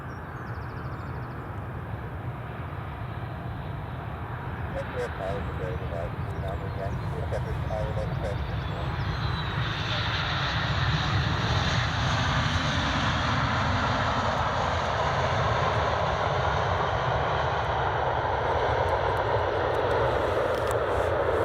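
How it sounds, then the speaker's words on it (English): Ryanair airliner at Edinburgh Airport, a steady loud engine roar that builds and holds through the stretch, with someone talking over it early on. "Here comes the Ryanair."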